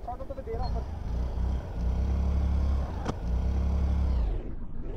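A scooter engine revs hard in surging bursts during a wheelie, the drone rising and falling close by, with voices talking over it.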